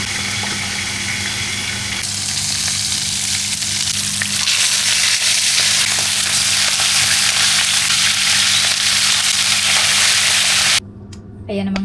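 Fish frying in a pan: loud, steady close sizzle and crackle of hot oil that runs almost throughout, cutting off abruptly near the end.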